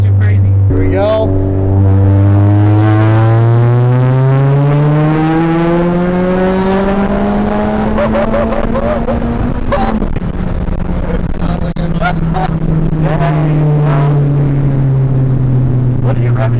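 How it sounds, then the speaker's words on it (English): A big-turbo Ford Focus RS pulls hard in third gear on a 45 mph road, engine note climbing steadily through the revs before a shift, then droning on with turbo whoosh, loud and close from inside the car. "Nice little third gear pull."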